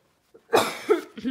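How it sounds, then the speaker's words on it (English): A single person coughs at close range during a craft catalog unboxing, in a short burst of two or three rough, throaty coughs with a brief catch of breath before them. "And now I need to cough."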